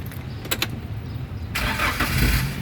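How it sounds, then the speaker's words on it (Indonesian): A 2015 Daihatsu Gran Max 1.5 diesel with manual gearbox cranks in a few short starter bursts, then fires and settles into a loud, steady idle, close up with no talk. "barulah kita coba nyalakan mobil"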